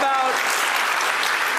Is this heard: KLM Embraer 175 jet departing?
no